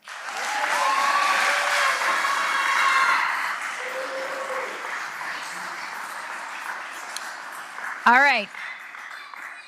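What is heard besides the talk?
audience applause for students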